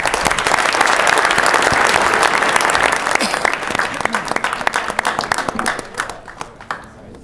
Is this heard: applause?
yes